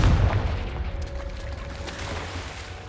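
The Confringo blasting spell from Hogwarts Legacy goes off with a heavy boom right at the start, its deep rumble fading away into a quieter, steady background.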